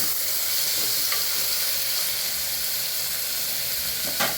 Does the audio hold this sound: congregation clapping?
no